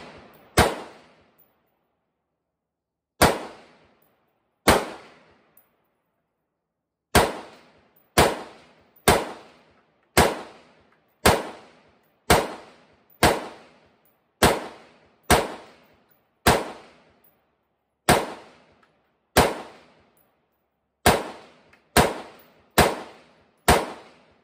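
AR-15 rifle fired at a 25-yard range: sharp, loud single gunshots with short ringing decay, about twenty in an uneven rhythm, some in quick pairs and others after longer pauses, with no talk.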